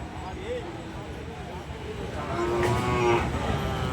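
Cattle at a cattle market mooing, a couple of drawn-out lowing calls, over steady background noise and people talking nearby.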